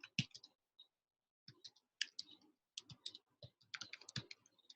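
Rapid, uneven clicking of computer keyboard keys as a chat message is typed, close and clear, in short bursts separated by brief pauses, with no voices.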